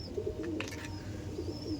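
Andhra pigeons coo softly in a cage, low repeated burbling calls close by over a steady background hum.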